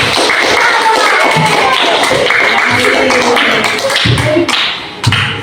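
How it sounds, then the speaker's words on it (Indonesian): Classroom of students clapping hands during a lesson, a close, loud patter of many claps with some taps and thumps, fading slightly near the end. "Tepuk tangan."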